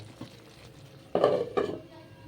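A lid set onto a pot of frying chicken, two quick metallic clanks in close succession after soft stirring scrapes, with no talk.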